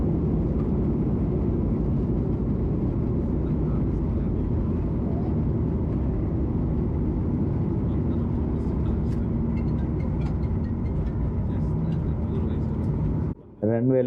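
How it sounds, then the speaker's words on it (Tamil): An airplane taxis after landing at Chennai airport, giving a steady, close, low cabin rumble that runs unbroken for most of the clip before a brief dropout near the end, with a voice speaking over it. "ஃப்ளைட் லேண்ட் ஆயிடுச்சுங்க."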